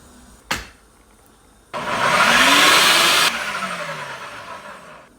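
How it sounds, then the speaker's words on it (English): A kitchen blender grinds pepper for okra soup, a short knock first, then a loud, steady motor roar that drops to a lower, slowing whir as it runs down. "I will just go blend the pepper."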